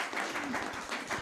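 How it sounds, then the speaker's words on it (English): A brief burst of audience applause at a county Democrats' meeting greets a county commissioner, a soft, even patter of clapping that sounds moderately distant. "a warm round of applause, please, and welcome for Karen Cunningham"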